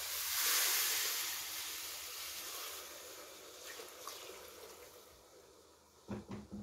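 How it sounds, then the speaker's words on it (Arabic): Water pours into a cooking pot in a home kitchen, a rushing hiss that swells near the start and tapers off, ending with a few brief clanks and splashes; no talking. "بس قبلها هنزل بالميه"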